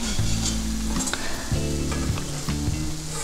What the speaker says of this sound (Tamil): வெட்டி வச்ச எல்லா பிரெட் பீசஸும் இந்த மாதிரி போட்டு பொரித்து எடுத்துக்கலாம்.